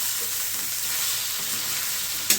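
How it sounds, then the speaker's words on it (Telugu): Bitter gourd frying and being stirred in a pan, a loud steady sizzle running throughout with a faint scrape of stirring and a sharp clack at the very end; no talk. "దాని తర్వాత దాంట్లో కాకరకాయ వేసి"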